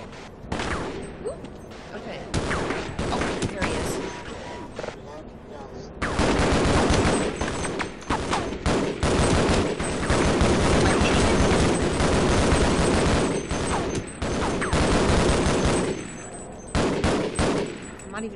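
Rapid gunfire bursts from a Half-Life match fill the scene, dense and loud, with bursts of automatic fire and overlapping shots continuing almost throughout, a brief quieter lull near the start, and a voice speaking faintly underneath.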